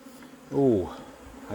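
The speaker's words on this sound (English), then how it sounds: "This one is just covered in bees." A single honey bee buzzes close past during a hive honey harvest, a brief rising and falling drone over quiet background.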